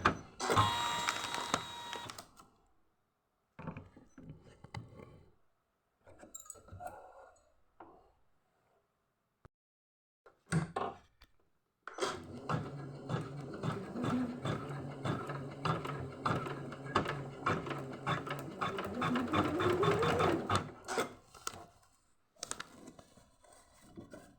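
Usha 550e embroidery sewing machine stitching a blouse design on a hoop frame: a dense, rapid mechanical whirring and ticking that runs steadily for about twelve seconds after a few short starts and quiet pauses.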